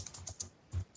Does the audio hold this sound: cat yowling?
no